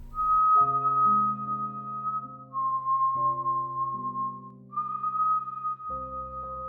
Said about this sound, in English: The whistle came again, closer this time.